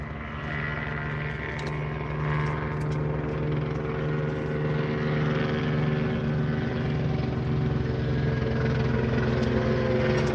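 A video game helicopter's rotor thrums in a steady, droning whir that holds loud and constant throughout, with a low mechanical hum underneath.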